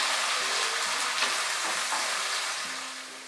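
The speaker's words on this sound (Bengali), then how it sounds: "মিডিয়াম আঁচে পেঁয়াজটাকে 3-4 মিনিট আমি খুব ভালো করে ফ্রাই করে নেব" Onion fries on medium heat at the start of a Bengali mutton rezala, giving a steady, fairly quiet hiss broken by a few soft stirring scrapes. The sound fades slightly toward the end, with no voices.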